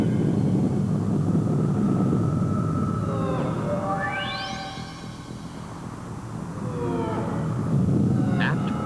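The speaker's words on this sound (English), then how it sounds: "Breaks through Mach 3, but then deviates from the flight plan and begins to turn the X-2 back towards the dry lake." A high-speed X-2 rocket plane streaks past over a dry lake bed, a steady roaring rush overlaid with rising and falling whining tones as it sweeps by, fading in the middle and swelling again toward the end.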